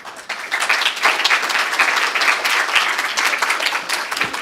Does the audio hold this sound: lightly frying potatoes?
no